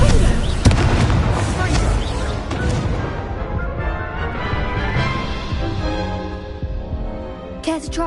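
The Incendio fire spell is cast in the game Hogwarts Legacy, a loud burst of roaring flame and crackling booms that swells at once and then fades over several seconds.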